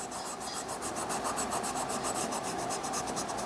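A brush scrubs rust off the bare metal parts of a York 60mm vise. The strokes are rapid, rhythmic and close, with an even back-and-forth rasp that continues without pause.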